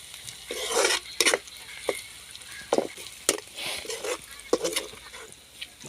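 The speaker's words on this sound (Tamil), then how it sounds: "இப்போ நாங்கள் வெங்காயம் தாளிக்கிறோம்." Onions tempering in a pan for a Sri Lankan Tamil home lunch sizzle softly beneath bursts of stirring, with several sharp scrapes and clinks of a utensil against the pan spread irregularly throughout.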